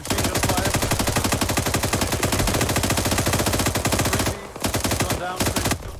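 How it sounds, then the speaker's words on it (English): Machine gun fire in the video game Arma 3 rattles in loud, rapid, continuous bursts, with two short breaks near the end before the shooting resumes. "We got machine gun fire."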